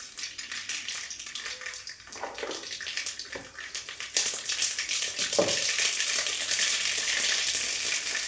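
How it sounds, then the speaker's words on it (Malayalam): Mustard seeds and fenugreek spluttering in hot oil for a taro-leaf stir-fry, a steady broadband sizzle with scattered pops and crackles that grows louder and denser midway, with no talking. "കടുക് പൊട്ടിയിട്ടുണ്ട്."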